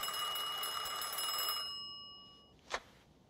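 An old-style telephone bell rings in a fast, continuous metallic trill inside the game Mafia II, then stops abruptly, followed by a single faint click.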